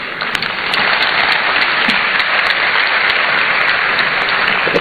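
Audience applause at a university launch of a student entrepreneurship programme, a steady, dense wash of clapping that swells in after a brief start and holds loud and even throughout, with no voices over it.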